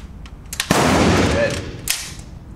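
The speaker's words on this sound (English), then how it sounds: "just push the selector forward into full auto. And as long as you hold, keep firing" Rifle with a red dot sight fired in full auto at an indoor range, one sustained rapid burst of about a second, loud and close, followed by a short echoing tail and a brief second pop.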